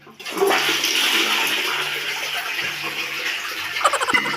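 A toilet bowl flushes close by, starting with a loud rushing surge of water that settles into a steady swirling drain and refill, with a few gurgles near the end.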